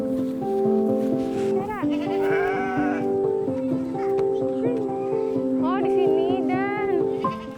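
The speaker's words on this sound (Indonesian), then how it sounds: "Ada 7 ekor kambing dan domba yang Dani pelihara." Goats and sheep bleat repeatedly from a pen on a rural Sundanese farm, several animals calling close by in overlapping, wavering cries over a steady background hum.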